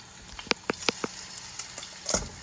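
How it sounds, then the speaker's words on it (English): Shrimp go one at a time into hot olive oil in a pan, producing a few sharp crackles and pops over a low sizzle. A brief, louder spatter burst comes near the end. "You really want to hear that sizzle, then you know it's ready to go."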